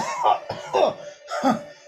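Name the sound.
imitated coughing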